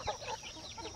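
Free-range village chickens on a farm plot cluck and call in a close, busy flurry of short bird sounds with no talk.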